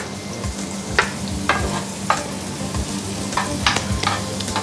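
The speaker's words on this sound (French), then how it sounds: "Je vais te donner une cuillère, je vais te laisser remuer tout ça." A spoon stirring a spiced mixture in a pot on the stove, with steady sizzling frying underneath and repeated scraping strokes against the pot at an irregular rhythm, close and fairly loud.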